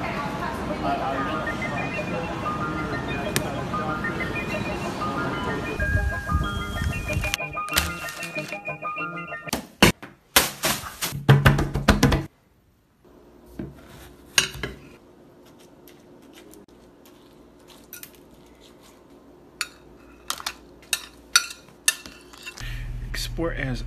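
A beat assembled from sounds of a store-bought melon: scattered percussive knocks and clattering hits with tonal passages, abrupt cuts and near-silent gaps, then sparse sharp taps over a low rumble.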